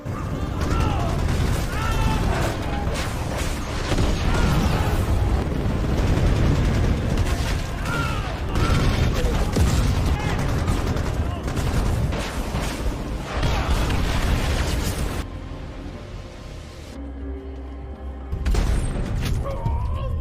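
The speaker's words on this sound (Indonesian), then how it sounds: "Helikopter Apache yang sudah menerima titik lokasi mortir musuh segera menghujani mereka dengan serangan rudal dan tembakan mesin" Dense, continuous barrage of rapid helicopter machine-gun fire and booming rocket explosions from an Apache helicopter, loud and close, with a brief lull near the end before firing resumes.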